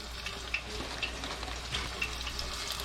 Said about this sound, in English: Throw my little nuggets in here. Don't take long to fry either.